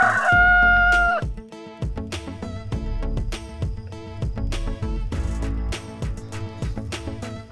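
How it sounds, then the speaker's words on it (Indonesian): A rooster crows loudly once at the start, then a busy music bed carries on over the rest. "Ayam jantan."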